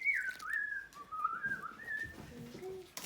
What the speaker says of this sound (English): There's some whistling going on